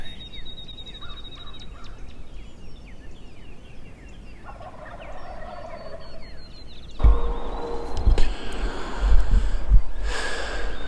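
Several wild Rio Grande turkeys gobble at a distance on Oklahoma public land in spring, their rattling calls repeating over quiet outdoor ambience, with a louder burst of gobbling and rustling near the end.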